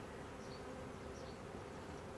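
Honeybees in an observation hive, a faint continuous buzzing hum that stays soft and steady throughout.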